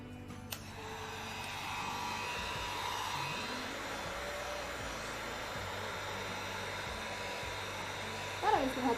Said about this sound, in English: So I'm gonna heat treat these pieces real quick.